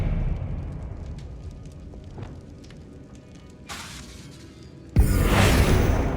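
Confringo fire spell blasts in the Hogwarts Legacy video game: a rumbling low bed broken by a short whoosh, then a sudden loud fiery burst near the end that stays roaring and crackling.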